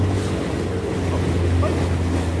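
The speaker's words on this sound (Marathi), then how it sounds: "अशा प्रकारे समुद्र आहे." Sea waves wash steadily in a port area off Angola lined with offshore supply ships, a dense, continuous surf rush mixed with wind buffeting the microphone.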